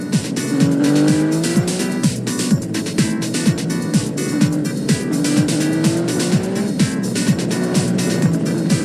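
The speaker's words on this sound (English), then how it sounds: "A motorbike!" Motorbike engine in a chase from the anime Dominion: Tank Police, revving loudly with rising and falling pitch, mixed with sharp screeching swoops and busy action effects throughout.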